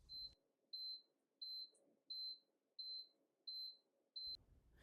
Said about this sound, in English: when the infusion is done, you'll hear the same series of beeps and the infusion is finished.